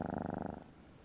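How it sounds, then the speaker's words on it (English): A cat in the video game Like a Dragon: Ishin purrs in a close, rapid, rhythmic rumble that fades out partway through. "Only purring in reply."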